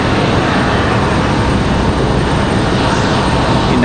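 American and United airliners taxi toward the runway at Raleigh-Durham International Airport, giving a loud, steady engine roar with broad rumble and no breaks, heard close and alone.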